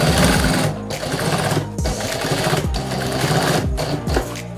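A sewing machine stitching a travel bag runs loud and steady in rhythmic bursts, with brief pauses between stitching runs and no speech.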